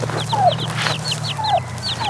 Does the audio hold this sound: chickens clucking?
yes